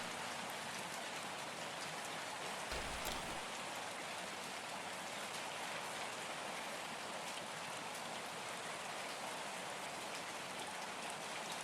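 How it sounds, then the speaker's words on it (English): Steady rain runs and trickles through a drain pipe and gutter in a continuous, even wash, with one brief low thump partway through. "drain pipe looping in the rain"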